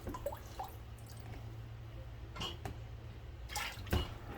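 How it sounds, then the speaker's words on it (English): Dried beans are rinsed in a bowl of water while being prepared for pressure canning, giving soft sloshing, occasional drips and small splashes close by. A faint, steady background hum runs throughout. "I'm gonna keep washing these beans from the smell."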